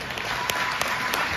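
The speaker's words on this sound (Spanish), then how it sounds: "Que vengan esos aplausos, por favor." Wedding guests clap together in a steady, dense round of applause that continues for the whole moment, with a few sharper claps standing out and a faint voice in the background.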